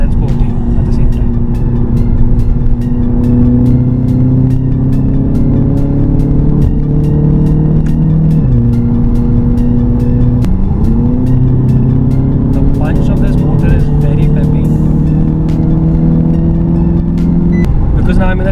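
A steady engine hum from an Audi TT Coupe while driving, with low tones that shift in pitch as it changes speed and faint road noise throughout.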